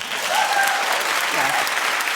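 A studio audience at a daytime talk show claps in a dense, steady burst of applause with some crowd noise, heard up close and loud throughout.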